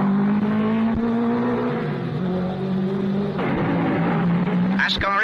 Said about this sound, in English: The cars are seen here rounding that tricky corner at the bottom of the hill and accelerating away to something in the region of 100 miles an hour.